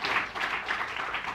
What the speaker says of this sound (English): I think you deserve a huge round of applause for that